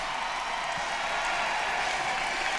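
Large crowd at the Indianapolis 500 cheering and applauding in a steady, dense roar that fills the whole stretch, close and continuous with no distinct voices standing out.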